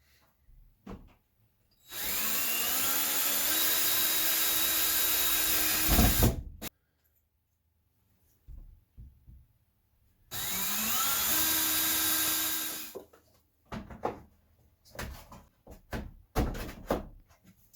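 Power drill driving screws to mount a cheap stick-on shelf in a barn: two sustained whirring bursts of about four and three seconds, each ending with a thump, separated and followed by quieter knocks and handling clatter.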